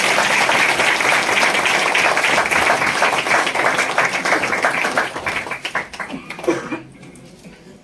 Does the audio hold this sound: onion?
no